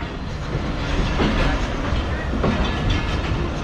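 Karakoram Express train passing on an adjacent track in Pakistan, a steady loud rumble with rolling wheel clatter, close and continuous, with no talk.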